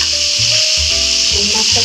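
Fish fries lightly in a pan, giving a loud, even, bright sizzle that holds steady throughout, with a faint tonal murmur beneath.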